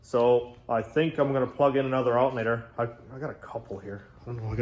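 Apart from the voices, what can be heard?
No everyday noises stand out.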